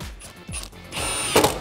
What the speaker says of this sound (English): We can tighten those back down with our 10mm socket.